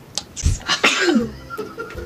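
A close sneeze bursting out amid a few brief vocal noises, one loud explosive burst with a breathy trailing sound.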